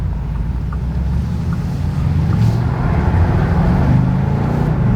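A Bentley Continental GT V8 Mulliner accelerates under load, a dense low engine rumble that swells slightly midway, heard from inside the cabin with road and wind noise and no talking.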